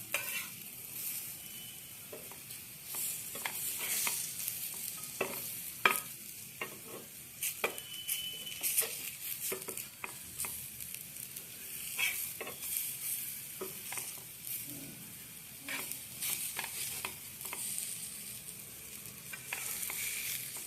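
Cabbage fritters (bandhakobi bara) fry in a small amount of oil, giving a soft continuous sizzle broken by frequent scraping and stirring clicks from a utensil, close and fairly quiet.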